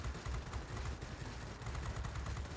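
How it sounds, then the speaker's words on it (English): Sustained bursts of 30 caliber machine gun fire from a World of Warplanes fighter plane, a dense, continuous rattle of rapid shots with steady low-end thumping, loud and uninterrupted throughout. "you're only hitting them with freaking 30 caliber machine guns"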